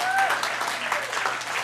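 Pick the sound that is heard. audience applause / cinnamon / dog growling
audience applause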